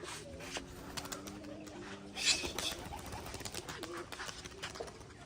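Pigeons coo softly at a pigeon farm, low repeated calls under a faint background hum, with a brief brighter chirp near the middle.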